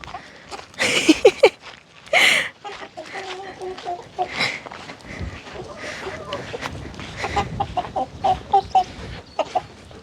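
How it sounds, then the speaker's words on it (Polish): An agitated farmyard rooster clucks in quick, close bursts, with people talking over and between the calls. "Kogutek. Wkurzony kogutek."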